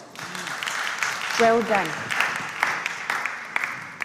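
Audience at a school academic contest gives short applause for student contestants, scattered hand claps underneath a voice speaking briefly.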